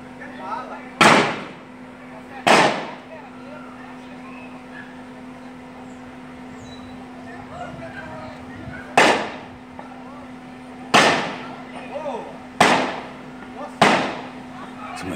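Gunshots during a police confrontation in João Pinheiro, Brazil: six sharp, loud cracks at irregular intervals, each with a short decay, over a steady background hum and faint voices.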